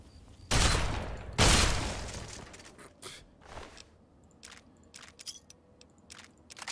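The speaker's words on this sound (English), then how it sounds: "I'm going to top this off with terrible shotgun usage" Two loud shotgun blasts in the game Fallout 3 boom in quick succession, each with a sharp crack and rumbling tail, followed by scattered fainter clicks and thuds.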